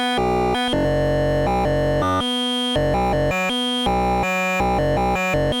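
A Malekko Heavy Industry Richter Megawave oscillator in a modular synthesizer, under audio-rate modulation and sequenced, steps through buzzy, harmonically dense tones that change pitch and timbre abruptly every fraction of a second, loud and continuous.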